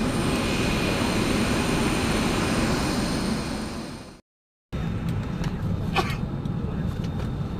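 Steady, loud broadband engine drone fills an airplane cabin on a flight to Makassar. A brief silent gap interrupts it before the constant roar resumes, with a few faint cabin clicks.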